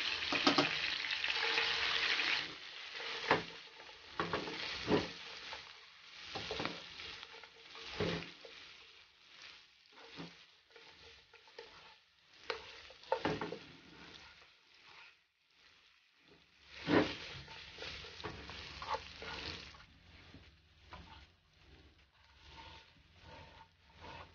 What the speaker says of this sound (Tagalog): chicken adobo sa frying pan na may hot oil